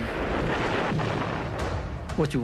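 Heavy naval destroyer gunfire during the D-Day Normandy landings roars as a dense, continuous rumble of blasts, loud and close, with a voice breaking in near the end.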